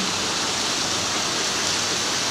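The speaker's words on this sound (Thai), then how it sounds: "ผมโคราชฝนตกแล้วครับ" Steady rain falling in Korat, Thailand, a dense even hiss that fills the whole stretch without breaks, fairly loud and close, with no talking over it.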